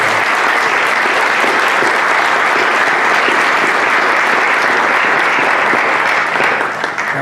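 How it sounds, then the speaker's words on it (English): A school board meeting audience gives a round of applause for a group being recognized, a loud, dense wash of clapping that holds steady for the whole stretch and only thins slightly at the very end. "I want you all to give yourselves a round of applause for a job done."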